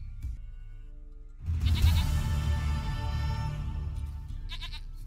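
Goat in The Witcher 3 gives a wavering bleat after a quiet start, fairly close and clear over low game ambience, with a shorter call near the end.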